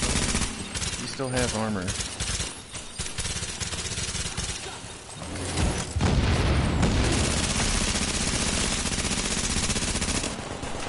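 Enemy gunfire in The Division's Dark Zone rattles in dense, loud bursts of automatic shots, first broken up and then sustained almost without pause for several seconds, with a player's voice speaking briefly beneath it.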